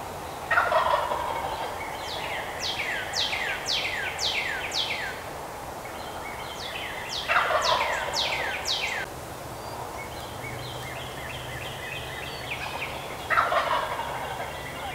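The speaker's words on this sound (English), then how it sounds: "This tom was definitely gobbling away" A wild turkey tom gobbles in spring woods in Minnesota, three loud rattling gobbles about six seconds apart, moderately close over a soft outdoor background, with no talking.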